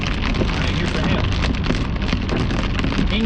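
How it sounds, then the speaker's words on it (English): Hail pelting down during a storm-chasing intercept of a hail core, a dense, loud, continuous clattering roar with no break across the whole stretch. "Alright, here's the hail."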